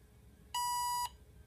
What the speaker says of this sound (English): I get that positive beep